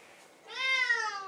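A Bengal cat gives a single clear, rising-then-falling meow at close range, heard on its own without talking.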